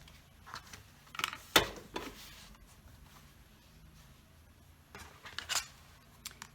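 Quilt fabric being trimmed with a ruler on a cutting mat, heard as a few quiet, brief scraping and cutting strokes with soft handling noises between them.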